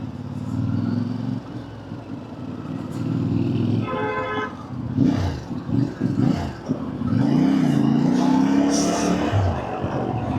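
A CF Moto MT 450 motorcycle rides along with a steady engine drone and a rise in revs, a short horn toot in the middle, and a rider talking over it at times.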